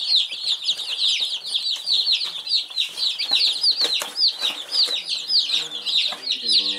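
Baby chicks on a farm in spring cheep steadily in a dense, high chorus of rapid peeps, close and continuous throughout.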